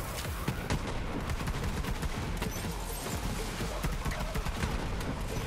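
Rapid, heavy pistol gunfire from the Maggie in Borderlands 3 during the Bloody Harvest event, a loud continuous volley of overlapping shots with no pauses.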